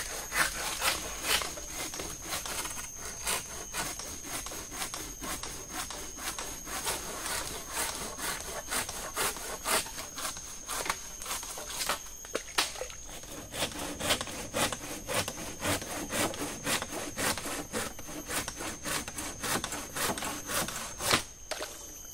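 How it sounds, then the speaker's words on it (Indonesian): A hand saw cutting through wood at a rainy campsite, a long run of quick, rhythmic rasping strokes that carries on steadily and close by, with no talking over it. "Kita gergaji dulu biar rapi kan."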